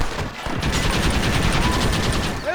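Dense rapid gunfire during a Red Dead Redemption shootout, a continuous rattling fusillade of overlapping shots at close range, loud and sustained with no voices.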